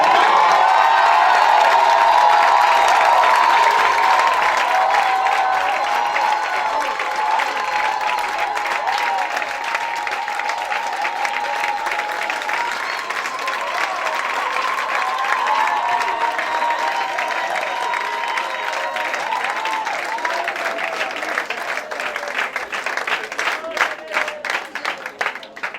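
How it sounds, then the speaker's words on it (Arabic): Large church congregation at a conference shouts and cheers in praise, with dense applause and whoops loud at first, then a sustained roar of clapping and voices that slowly thins. "give the Lord a resounding shout of praise"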